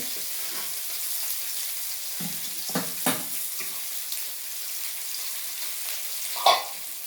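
Rohu fish pieces frying in oil in a wok, a continuous hissing sizzle close by, punctuated by a few short clanks and scraping knocks as the pan is moved and the fish handled.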